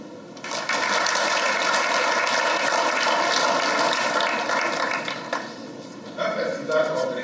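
An audience at a festival closing ceremony at a university in Lomé breaks into loud, continuous applause that swells quickly and then tapers off in scattered claps near the end.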